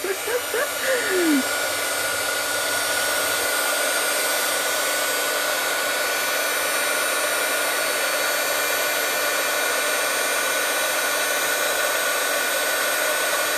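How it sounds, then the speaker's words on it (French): A heat tool blows steadily on a stamped embossing design during a Stampin' Up card-making session, a loud, constant whooshing hiss that runs unbroken from start to finish. "Je vais chauffer, donc je suis désolée, ça va faire un peu de bruit."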